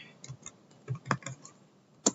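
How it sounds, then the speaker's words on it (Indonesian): Keys tapped on a computer keyboard while a Linux install command is entered, a handful of separate quiet clicks in an uneven rhythm with one sharper, louder keystroke near the end. "Lalu kita ketikkan perintah apt"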